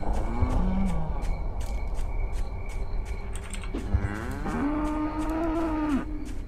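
Faint clicks and taps sound first in the game Edge of Hearts, then a single loud cow moo swells and holds for about two seconds near the end. Nobody speaks.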